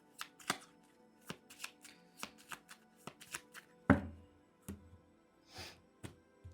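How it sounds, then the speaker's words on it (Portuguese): Cigano tarot cards are shuffled by hand in a quiet room, a run of soft irregular riffling taps and slaps with one louder thump partway through and no voices. "Padilha, vamos lá então, 5 cartas do baralho cigano, de confirmação ou de algo mais que essa pessoa precisa ficar sabendo"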